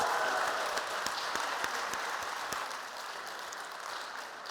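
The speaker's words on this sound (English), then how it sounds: "Let's give him a round of applause." An audience at a live beauty show applauds, with loud, dense clapping that thins and fades slightly toward the end and is heard without any talking.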